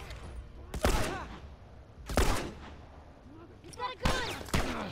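Gunfire in The Last of Us, four sharp loud shots at irregular intervals, each ringing briefly, with shouted voices mixed in between.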